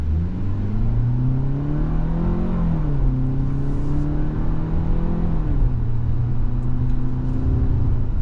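A 2024 Hyundai Tucson SEL in sport mode pulls away, its engine note climbing in pitch, dropping at a shift, then rising again over a steady road rumble, heard from inside the cabin.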